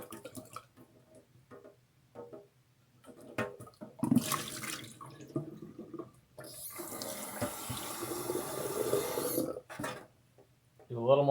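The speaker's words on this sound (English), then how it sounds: "check out how clean this water is coming out of the bong" Water pours out of a dirty popper bong into a sink while it is being cleaned, a steady splashing rush that swells for several seconds, with scattered clanks and handling noises around it.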